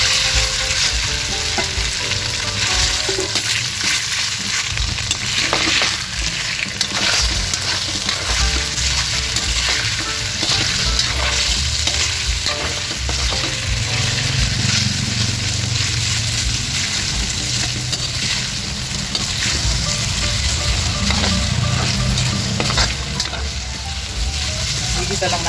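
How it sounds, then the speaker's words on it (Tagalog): Marinated meat hits hot oil in a pan and sautés, giving a loud, dense, unbroken sizzle with occasional stirring scrapes, close up, with a little speech in places. "Mainit na guys yung ating mantika, kaya ilalagay muna natin itong ating minarinate na karne."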